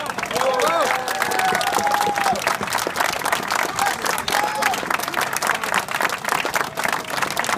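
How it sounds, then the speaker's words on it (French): A large crowd at a union meeting gives sustained, dense applause for the lawyers, loud and steady throughout with a few voices calling out over it. "je crois qu'on peut les applaudir très, très, très fortement"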